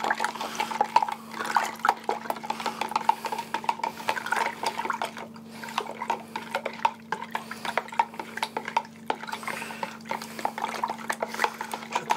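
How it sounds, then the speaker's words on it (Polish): Cold kettle water being stirred in a container to dissolve brine for smoking pork and turkey, with steady watery swishing and light clinks of a utensil against the vessel, continuous and close, with a faint hum beneath. "Pomerdać, żeby rozpuścić."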